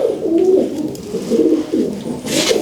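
Pigeons coo softly and repeatedly nearby, several low burbling calls overlapping with no voices.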